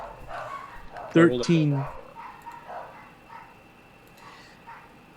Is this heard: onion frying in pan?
no